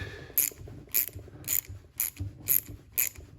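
A hand ratchet clicks in six quick bursts, about one every half second, as it loosens a nut on a Honda car AC compressor. The sound is close and crisp in a quiet space.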